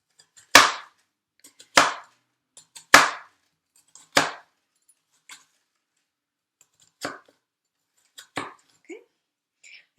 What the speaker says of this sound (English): kind of grip your onion with the claw and cut